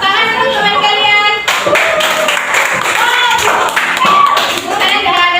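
Classroom of students applauding a classmate, close, loud clapping from a small group with a bright, uneven rhythm and some voices mixed in.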